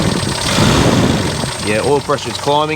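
A Suzuki Feroza engine, freshly rebuilt and hot, runs with a steady loud drone that rises slightly as it is revved, with someone talking over it near the end.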